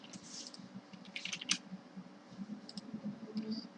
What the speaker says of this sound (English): So now let us type in something.